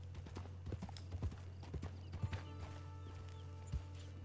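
Horse hooves in the video game Red Dead Online clip-clop in a steady, moderately quick walking rhythm, fairly quiet, while soft sustained tones swell in the background partway through.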